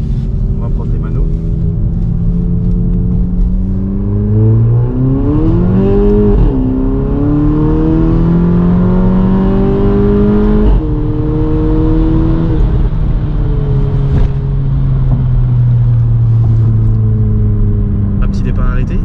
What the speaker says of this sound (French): Attention, petite accélération.